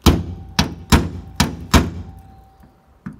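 Five sharp metallic hammer-on-punch strikes in a quick, slightly uneven rhythm, center punching a rivet on an aluminum jon boat during rivet repair, each blow close and loud with a short ringing decay, then a fainter tap near the end.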